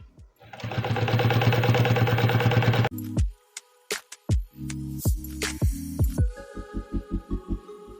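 A sewing machine stitches bias binding around a curved fabric edge, running in a steady loud whir for a few seconds, then stopping and restarting in short, rhythmic bursts of stitches up close.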